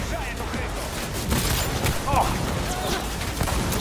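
Sniper gunfire in Cyberpunk 2077 during a firefight, a few sharp cracks scattered among game noise, with someone talking over the action.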